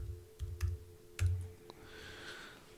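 Several quick clicks of keys on a computer keyboard as a short word is typed, a few separate taps in a row, close and fairly quiet with no talking.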